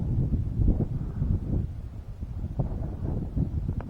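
Wind buffeting the microphone at an RC model airplane airfield, a steady low rumble with gusty surges throughout, loud and close, with no clear talk over it.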